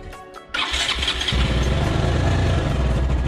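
A Bajaj Pulsar 220 motorcycle running on a lithium-ion battery cranks briefly on its self-starter, then catches and settles into a loud, steady close-up idle.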